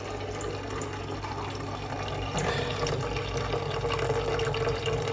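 Rotifer culture water drains steadily through a cannula, about 500 millilitres drawn off into a container for a marine aquarium, a continuous close trickling flow with no voices.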